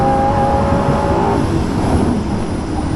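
A Lamborghini Gallardo LP550-2, rear-wheel drive, cruises at night, heard as a loud steady engine drone and road rumble from inside the car, with some wind noise.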